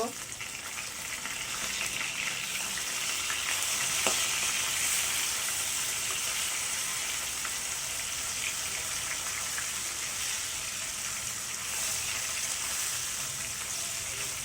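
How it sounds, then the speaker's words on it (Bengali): Chital fish pieces frying in oil, a dense, even sizzling hiss that holds steady with no pause, close and moderately loud, with no voices over it. "এখন আমি অপেক্ষা করো করব মাছগুলো লাল লাল করে ভাজা হওয়ার জন্য"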